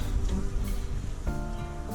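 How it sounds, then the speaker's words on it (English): A dense, droning buzz of many honey bees swarming close by during a hive removal, continuous and loud with shifting pitch. "There's a lot of bees here. A lot of bees."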